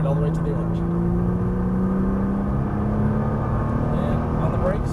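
Nissan GTR accelerating hard out of a corner on a track lap, engine droning steadily with a slowly rising pitch, heard from inside the car under a man's continuous speech.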